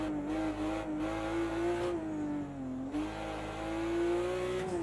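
A BMW 1M Coupe racing round Bathurst in the Project CARS 2 video game, its engine holding a steady, loud drone that dips briefly with a gear change, then climbs again.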